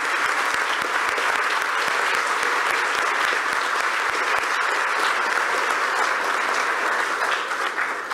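Steady, dense applause from a large audience at a Luso-Brazilian fiscal auditors' congress, loud and even throughout with no pauses, a sustained round of clapping filling the hall.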